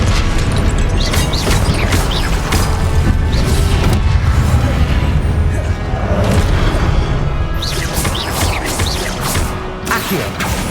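Repeated Confringo fire-blast spell impacts in Hogwarts Legacy on Xbox Series X: loud booming crashes and bursts striking in quick succession over dense rumbling combat noise, with a shouted voice faintly mixed in.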